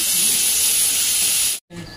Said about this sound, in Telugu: ఇప్పుడు లివర్ ఫ్రై చేస్తున్నారు